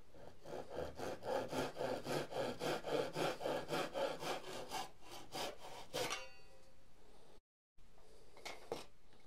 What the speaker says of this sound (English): So whilst we're sawing,